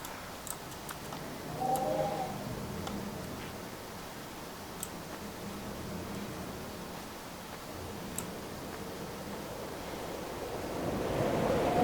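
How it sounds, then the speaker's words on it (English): Wind blows over an island in the video game Dear Esther, a soft, steady rushing like distant surf. A few faint ticks sound along the way, and the gusts swell louder at the end. "Oh, windy over here."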